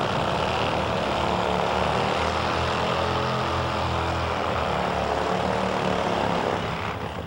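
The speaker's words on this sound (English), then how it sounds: "Let's listen in for the burnout from Kevin Boyer on his Top Fuel ride" Top Fuel drag motorcycle doing a burnout on a concrete launch pad at an NHRA drag race, a loud, continuous engine roar that holds steady for several seconds before easing slightly at the end.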